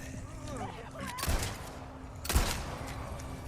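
Gunfire in the Resident Evil 4 video game: two loud, sharp shots about a second apart, heard under a voice.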